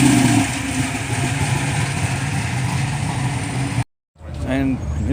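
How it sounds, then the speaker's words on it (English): A loud, steady V8 engine roar runs close by for several seconds, then cuts out abruptly, followed by faint background sounds, at a car meet. "Here comes something for those people that like a bit of V8 noise action."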